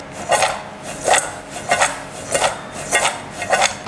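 Crispy fried corn tossed with chicken stock powder, sugar, chili powder and salt, a rhythmic scraping and rattling stir repeated about six times, close and loud with no talk.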